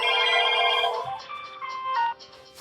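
A Panasonic KX-PRW120 cordless IP phone rings with a bright electronic melody of steady tonal notes, loud at first and then softer with short pauses, alone without talk.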